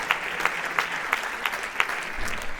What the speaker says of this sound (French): vous pouvez vraiment l'applaudir